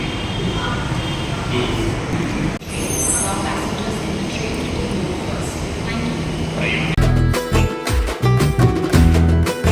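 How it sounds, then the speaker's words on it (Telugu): The loud, steady rumble of a metro train in motion fills the space, with muffled voices and rattling clatter growing stronger toward the end. "తార్నాక వరకు మెట్రో ట్రైన్ వస్తున్నాము"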